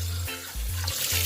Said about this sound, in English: wash our meat properly.